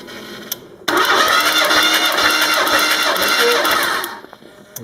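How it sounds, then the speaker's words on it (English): An early EFI engine with a misfire cranks over on the starter during a compression test, a loud, steady rhythmic churning that starts abruptly, runs for about three seconds and then cuts off, leaving quiet. "Foot to the floor, crank it over."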